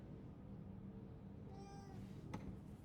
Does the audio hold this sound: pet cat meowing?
yes